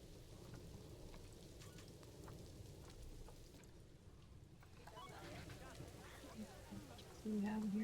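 Rain falls in the Planet Zoo game as a faint, even wash of droplets, with a low rumble and a voice talking over it.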